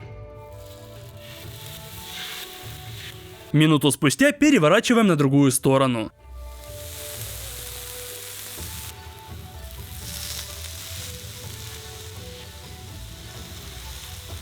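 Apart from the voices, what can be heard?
marinated chicken pieces sizzling on a hot oiled grill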